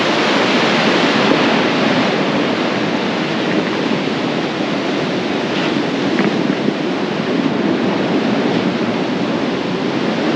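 Ocean waves crash at Kovalam beach in Trivandrum, with a loud, continuous roar of surf and wind rushing against the microphone, and no voices.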